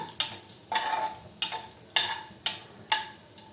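Tempering spices frying in a pan for a Telugu drumstick-leaf dal, heard as regular stirring strokes and scrapes about every half second, close and moderately loud, with no talk.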